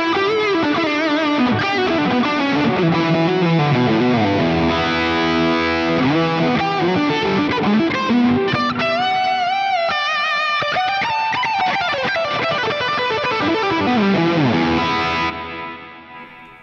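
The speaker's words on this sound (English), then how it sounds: "So here's what it sounds like with this multi-delay on." An electric guitar played through a Fractal FM9 with a multi-delay effect rings out in distorted, sustained phrases, repeating echoes trailing each note and a final chord fading away, loud and unaccompanied by talk.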